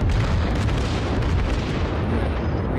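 Main battery gunfire from the IJN Kongo battleship in World of Warships at long range, a loud sustained booming rumble with layered blasts rolling together, no voices.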